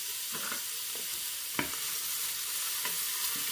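Garlic fries in a pan as the base of a smoky homemade tomato sauce, a steady close sizzle broken by a few sharp scrapes and stirring knocks, with no voices.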